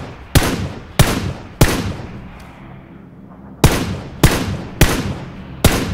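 Rifle gunfire in the video game PlayerUnknown's Battlegrounds: seven loud, sharp shots with short ringing tails, three quick ones spaced about half a second apart, a two-second lull, then four more at the same steady pace.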